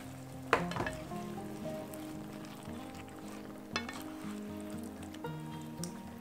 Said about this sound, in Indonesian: Kita masukin udangnya. Kita aduk rata.